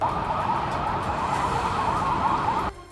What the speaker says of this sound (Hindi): पाकिस्तानी सेना की गाड़ियां इमरजेंसी सायरन बजाते हुए गुजरती दिखी